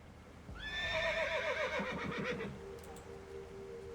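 A horse whinnies in the video game Reverse 1999, a loud, rising-then-falling neigh lasting about two seconds with a quavering tail, followed by faint low snorting and a lingering steady tone.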